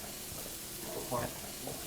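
Food sizzles steadily in a frying pan with pasta being tossed in, a soft continuous hiss with a brief louder stir or clatter partway through; people chatting nearby.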